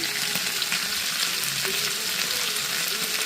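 Chopped onion frying in a pan with oil for an okra and potato dish, giving a steady dense close sizzle with faint scattered clinks and no voices.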